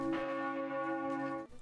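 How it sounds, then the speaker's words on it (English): A huge historic church tower bell in Delft, weighing almost 9,000 kilograms, is struck once by a hammer, giving a loud, rich ringing tone that hangs and sustains for over a second before cutting off. "Every hour, the clock vibrates a huge sound by being struck with a hammer."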